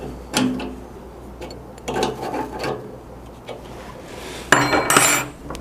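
A 14mm wrench turns a nut during a reverse osmosis water filter installation, producing a few close metallic clinks and ratcheting clatters in short bursts separated by quieter gaps.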